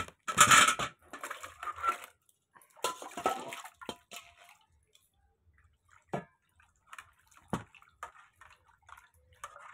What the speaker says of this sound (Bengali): এবার আমি সবজিটা ধুয়ে নেব।